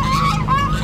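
Geese at a pond honk loudly and close, two or three harsh nasal calls in quick succession.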